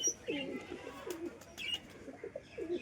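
Soft, repeated coos from a Telchiti pigeon roll out in low throaty phrases close by, with faint chirps and small background noises between them.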